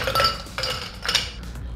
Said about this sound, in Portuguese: Copo alto, bastante gelo.